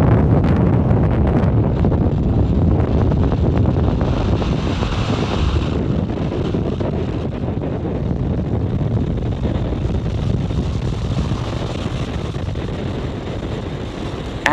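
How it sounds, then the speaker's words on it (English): SpaceX Falcon 9 rocket lifting off from Space Launch Complex 4 East at Vandenberg Space Force Base, California, carrying 74 satellites: a sustained, loud, broadband roar with crackling texture that rumbles steadily throughout with no speech. "Falcon 9 has successfully cleared the tower and lifted off from Space Launch Complex 4 East at Vandenberg Space Force Base in California"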